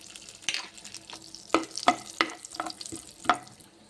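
Cashews frying in ghee in a pan are stirred with a spoon, making several scraping strokes over a faint sizzle.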